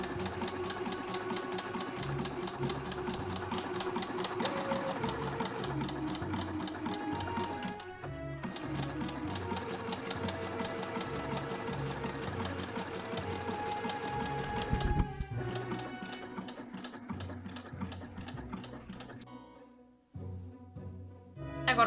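A domestic sewing machine stitches knit fabric in fast, steady mechanical runs, close and clear, pausing briefly around the middle and breaking into shorter bursts toward the end.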